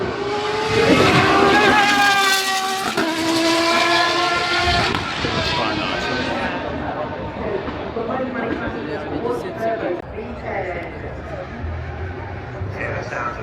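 A powerful hypercar engine revs hard up a hill at the Goodwood Festival of Speed, climbing in pitch through several gear changes, loud and close, then settles into a rougher, steady roar.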